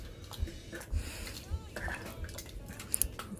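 A spoon stirs a pot of thickening Japanese curry with carrots and onions, giving faint, irregular scrapes and clinks against the pot.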